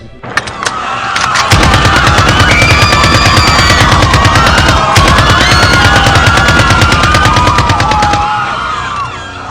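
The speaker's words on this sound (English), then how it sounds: "I raised up my AK-47 and gave my regards." AK-47 rifle firing on full automatic, a long loud unbroken burst of rapid shots at close range, lasting several seconds before cutting off, no voices.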